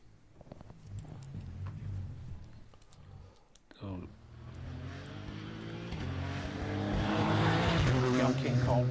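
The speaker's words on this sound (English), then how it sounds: "Young King Caldwell, car sounds okay, clutch doesn't sound to be slipping." Rally car on a stage of the Cork 20 Rally, engine note rising through the gears as it approaches and grows louder, with a commentator talking over the early part.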